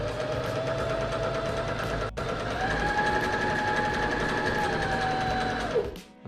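A Janome sewing machine stitches a zigzag, its motor whirring in a steady, rapid mechanical rhythm. The pitch rises briefly as it speeds up, then it slows and stops at the end.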